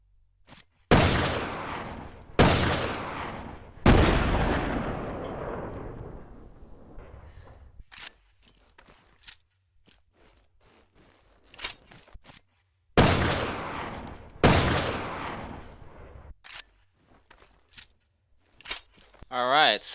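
A Colt Anaconda magnum revolver fires in Resident Evil: Revelations 2 with six loud, booming shots in two groups of three, each followed by a long fading echo and separated by quieter clicks and handling noises.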